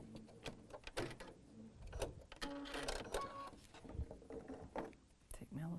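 A sewing machine stitches through quilt fabric in short, fast bursts of mechanical whirring, close and moderately loud, starting and stopping with handling clatter between runs.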